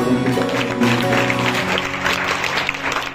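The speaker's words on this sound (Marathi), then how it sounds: "सर्वांनी टाळ्या" An audience at a college cultural heritage programme claps in a dense, steady burst of applause that stays loud throughout and eases slightly at the end.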